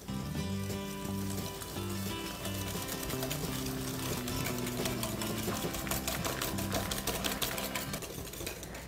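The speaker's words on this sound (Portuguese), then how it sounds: "E com o fouet vou bater ligeiramente até ele aumentar um pouco de volume." Eggs are beaten into sugar with a wire whisk for a lemon cake, a steady, fast rhythmic tapping and swishing in a bowl, moderately close, with faint background tones and no talk.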